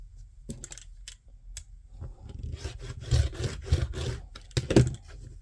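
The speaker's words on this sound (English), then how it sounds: "I'll trim it up a little bit so it looks a little more square" Fabric cut from Crown Royal bags is trimmed for a quilt, with a few sharp snips and then rough scraping, rubbing strokes in an uneven rhythm, heard close and moderately loud with no talking.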